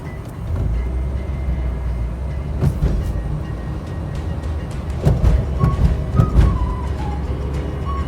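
Thai passenger train 258, Nam Tok to Thonburi, rumbles past close by at a level crossing near Song Phon halt, with heavy wheel clatter and rattling, and brief metallic squeals as the cars roll through.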